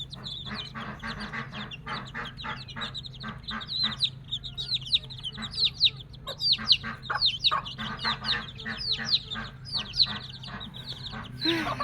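Two young ducks taken from their mother call loudly and repeatedly, a rapid string of harsh, frantic quacks and squawks up close amid other farmyard poultry.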